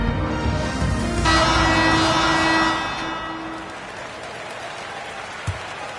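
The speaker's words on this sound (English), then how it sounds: "Fans, please give a big round of applause for your youth dance squad." Crowd applause and cheering fill a virtual NBA 2K26 basketball arena during a Golden State Warriors versus Indiana Pacers game, a dense steady roar that swells briefly, then eases to a softer background murmur.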